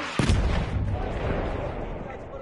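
A video game grenade goes off with one sudden heavy boom, followed by a long rumbling tail that slowly fades under faint background sound.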